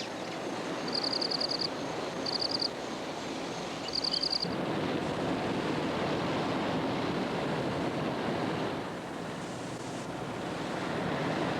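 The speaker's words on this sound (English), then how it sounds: "The expedition begins at the Awash Falls, a 60-foot-high cascading curtain of mocha water." Awash Falls, a 60-foot-high cascading curtain of muddy brown water on the Awash River in Ethiopia, roars as a steady, loud broadband rush. Brief high-pitched electronic beeps sit on top of the roar during the first few seconds.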